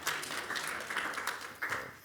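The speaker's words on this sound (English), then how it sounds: "Yeah, round of applause." Audience applause at a business forum, a short burst of steady clapping from a crowd, fairly close and filling the clip without speech.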